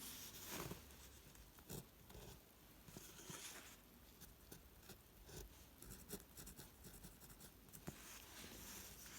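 Pen strokes writing the Chinese character 全 in printing script, a faint scratching patter of short strokes and pauses, quiet and close.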